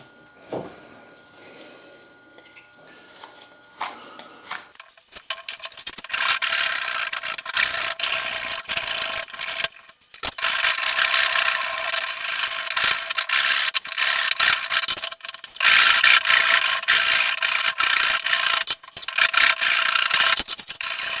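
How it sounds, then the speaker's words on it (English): Steady back-and-forth rasping of a saw cutting off the excess of a wooden slingshot handle, close and continuous after a few quiet handling noises at the start. "Now we are sawing off the extra part of the handle."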